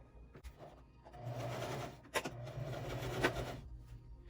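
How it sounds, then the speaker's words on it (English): A sewing machine top stitches along the bottom edge of a cased-pleat fabric mask, its steady motor hum running close and alone for several seconds, with a couple of brief mechanical clicks. "So now we're going to do the top stitching on the bottom."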